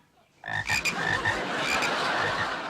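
After a quiet start, frogs break into loud, dense croaking, several calls overlapping in a continuous chorus close by.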